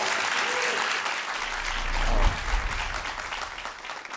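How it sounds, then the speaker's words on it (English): An audience claps in a dense, sustained round of applause at a talk show, steady throughout and peaking briefly midway before easing slightly. "Give him a round of applause."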